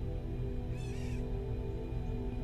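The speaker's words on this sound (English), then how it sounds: "Y'all hear the birds?" A single crow caws once outdoors, brief and fairly distant, over a constant low hum of background noise.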